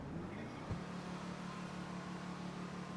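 An Albany Hermes car engine in GTA 5 drones faintly and steadily while driven in first-person view, with one brief knock early on.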